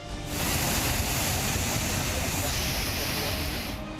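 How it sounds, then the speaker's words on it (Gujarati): Steady, loud rushing of fast-moving floodwater after heavy rain in Dwarka, a continuous roaring wash with no pauses, filling the whole scene. "પાણીનો ડરામણો પ્રવાહ વહી રહ્યો છે।"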